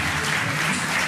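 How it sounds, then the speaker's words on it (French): Applause from the audience at a public meeting on the coronavirus held by the Bordeaux university hospital (CHU), honoring the translators. The sound is a steady wash of clapping, fairly even and moderately loud, across a short burst. "On peut les applaudir."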